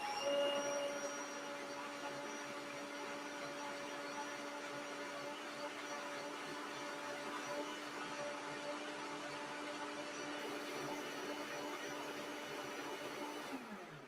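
A steady blender motor whir with a constant hum runs continuously while blending butternut squash soup, faint and even, for a long stretch before stopping.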